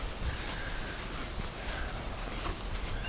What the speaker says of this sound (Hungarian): A madárdalok, a tücskök zenéje